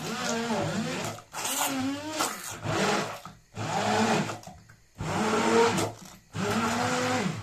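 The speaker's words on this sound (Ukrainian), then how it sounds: "Нам треба цю картопельку зблендерувати." A hand blender pureeing boiled potatoes, running in several loud close bursts of whirring motor with short pauses between them, and the pitch shifting as the blades work through the thick mash.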